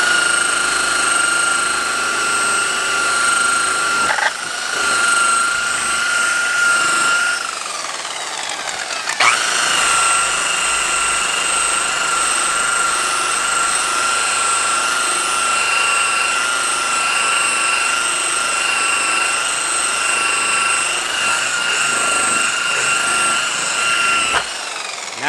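A power tool polishes a gouged plastic fender, its steady high whine running continuously with slight pitch shifts and brief dips as the pad is moved across the surface.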